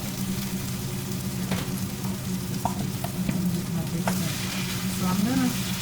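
Crab meat and anchovies sautéing in a pan for a crab stir fry, a dense close sizzle with a low steady hum and occasional clinks and scrapes of stirring.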